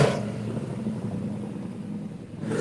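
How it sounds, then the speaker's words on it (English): A motorcycle engine revs somewhere in a Hawaii neighborhood, a steady low drone that swells at the start and end, moderately distant, with no voices over it. "There's this guy who drives around the neighborhood on a motorcycle making that noise all throughout the day"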